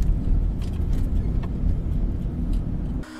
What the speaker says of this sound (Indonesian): suami istri mengendarai mobil dalam perjalanan pulang ke rumah